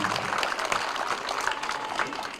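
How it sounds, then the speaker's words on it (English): Steady applause from an audience at an elementary school ribbon cutting ceremony, a moderate crowd clapping continuously for a couple of seconds without pause. "Can we give another round of applause for the board here?"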